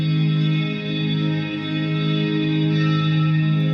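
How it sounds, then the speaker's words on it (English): A sustained ambient guitar drone with reverb added hangs as a steady, layered tone, holding evenly for the whole stretch without breaks. "And if I add the reverb on that,"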